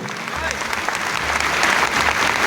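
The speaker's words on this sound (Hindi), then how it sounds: "जोरदार तालियां होनी चाहिए।" A crowd at a meeting of the Indian Railways goods shed workers' union in Gorakhpur gives loud, sustained applause. Many hands clap in a dense, continuous roar that holds steady throughout.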